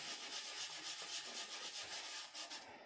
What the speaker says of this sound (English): the harder you sand, obviously, the more you take off